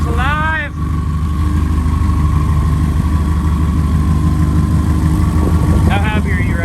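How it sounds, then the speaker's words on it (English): A car engine idles at about 700 RPM in a low, steady, loud drone close by, while people talk briefly over it at the start and near the end. "I see an idling right now at 700 RPM"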